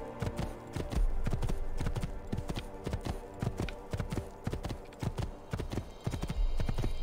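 Horse hooves clip-clop steadily and rhythmically as a rider travels on horseback in the video game Assassin's Creed II, loud and close with no talking.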